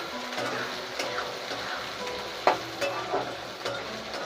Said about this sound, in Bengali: এবার আমরা একটু পেঁয়াজটা দিয়ে আবার নাড়াচাড়া করে নেবো।